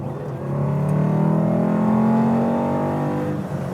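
Small car with a 1.6-litre engine bored and stroked to 2 litres, running throttle bodies and modern injection, revs hard and climbs in pitch in a loud, close, steady drone, then eases slightly at the end, with no voices.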